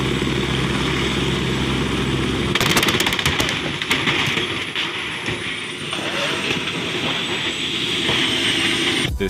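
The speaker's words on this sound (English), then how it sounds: "This helicopter was parked in the road when a truck drove into its propeller." A parked helicopter's spinning rotor chops steadily until a truck strikes it, setting off a sudden burst of sharp cracking and clattering, then continued rough rotor noise, loud and close.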